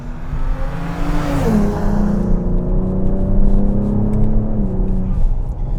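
A 500 HP Ford Explorer ST with a built transmission revs loudly and steadily, its engine note sliding down partway through, with a faint hiss near the start that may be its loud blow-off valve venting.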